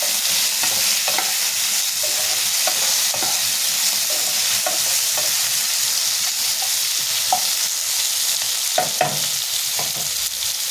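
Thankuni leaf paste stir-fried with a little turmeric in a pan, a steady sizzle and frying hiss with repeated scraping stirs throughout, close and fairly loud, no voices.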